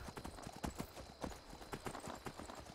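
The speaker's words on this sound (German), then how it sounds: "Na gut, reiten wir direkt mit dem Pferd hoch." Horse hooves clip-clopping in a steady, rapid rhythm as a rider gallops in the video game Skyrim, close and fairly loud with a faint whinny-like trace.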